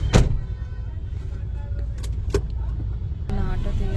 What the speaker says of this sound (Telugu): సో క్యాబ్లో వెళ్తున్నాము.